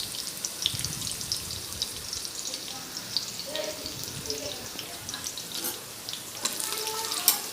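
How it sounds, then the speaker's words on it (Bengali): Dishes are washed under a running tap, with water splashing and clattering in a continuous wash while a voice talks intermittently and food sizzles faintly nearby. "তাই দেখুন বাসন ধুচ্ছে সব।"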